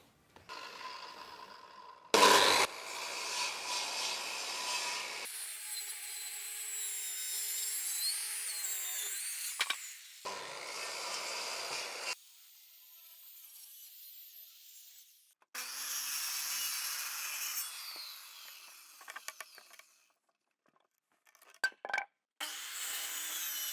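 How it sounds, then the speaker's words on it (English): A circular saw cutting a wood slab into smaller blanks for later bandsaw work, heard as several loud sustained cuts separated by brief pauses, each pass rising and falling with the blade's load. "I'm going to get the circular saw and cut them down into some more manageable pieces"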